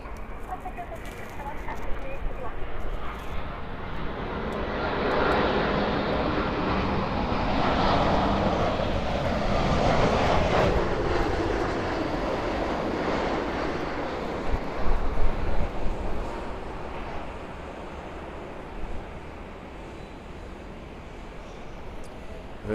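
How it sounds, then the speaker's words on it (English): Large jet landing on runway 25 right at Los Angeles International Airport, a loud sustained engine roar that swells and peaks mid-pass with some wind noise, steady throughout the long approach and touchdown. "Got a big plane coming in you might want to see."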